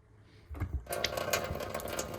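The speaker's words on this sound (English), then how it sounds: "open all the faucets" Water rushing from household faucets opened in a basement during draining for a water expansion tank replacement, starting as a steady broadband hiss that surges louder after a brief opening thump and continues close and constant.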